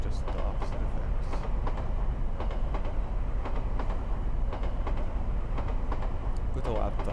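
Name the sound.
train braking and coming to a halt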